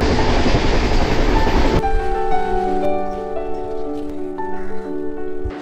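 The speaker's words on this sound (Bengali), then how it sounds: "ঘুসকরাতে ঢুকিয়ে দিল আমাদের ট্রেন কিন্তু একদম টাইমেই আছে।" A train pulls into Guskara station near Shantiniketan, with loud rolling rumble and broadband rail noise easing into a steadier hum and tonal squeals as it slows; no talking.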